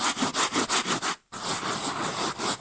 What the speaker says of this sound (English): We're rubbing it lovely, circly into the carpet, making sure that you get the pile up with lots of energy.